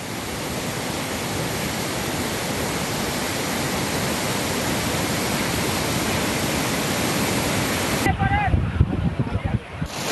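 Water discharges from the Nandur Madhmeshwar dam as a loud, continuous broadband roar. It cuts to a quieter, rougher rush for the final couple of seconds.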